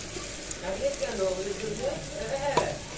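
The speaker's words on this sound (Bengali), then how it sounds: "তারপরে পেঁয়াজ কুচি দিয়ে দিয়েছি এখন পেঁয়াজটা ভাজা হোক" Steady crackling sizzle of chopped onions frying in hot oil, close by, with a voice murmuring faintly in the background.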